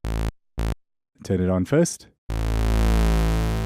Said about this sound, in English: If we were to hear the first and third oscillator alone, it would sound like this.